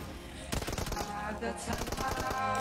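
Rapid automatic gunfire from the mobile shooter Peacekeeper Elite, loud bursts of close shots that start abruptly and keep going in dense rattling runs, with a brief lull in between.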